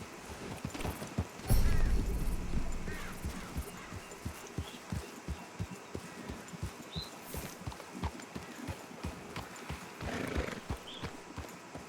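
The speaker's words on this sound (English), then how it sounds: "Interessante, eu ganhei um cavalo." Horse hooves clip-clop in a steady rhythm within the Red Dead Redemption 2 video game, with a brief whinny and a thud early on, all fairly faint and without talk.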